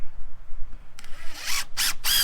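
A screw is driven into a decking board with a power drill, which starts up partway through with close, rising whirring bursts and a brief pause between them.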